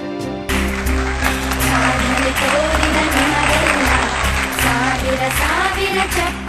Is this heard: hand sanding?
no